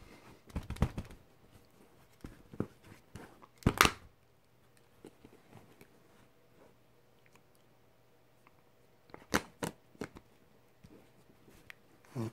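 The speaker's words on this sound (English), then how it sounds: "so let's just pull off the back cover," The back cover and battery of a Samsung Galaxy S5 come off in a few sharp plastic clicks and snaps, scattered through a quiet stretch, close up and brief.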